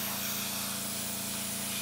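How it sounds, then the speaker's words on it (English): A tankless Harbor Freight air compressor runs steadily and loudly, a continuous hissing motor drone with a low rhythmic pulsing underneath, with no gaps and no voices. "I don't have a tank on this compressor, so it turns on and off constantly."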